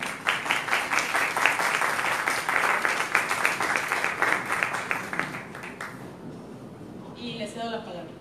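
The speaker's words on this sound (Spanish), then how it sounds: "Les pido un fuerte aplauso para estos importantes invitados que tenemos esta noche." An evening architecture discussion audience claps for invited guests, a steady, full round of applause that fades after about six seconds, leaving quieter room sound with a voice starting to speak near the end.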